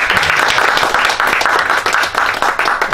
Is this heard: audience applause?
yes